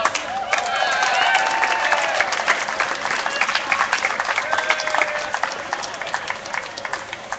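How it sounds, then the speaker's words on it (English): A crowd at a No Coal in Oakland rally applauds after a musical performance, with dense clapping, scattered cheers and whistles, swelling and then tapering over several seconds. "One big round of applause."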